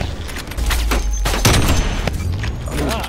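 A sniper rifle fires in Call of Duty Cold War, a loud sharp blast with a booming tail standing out over continuous game noise and other distant gunfire, with a voice briefly present.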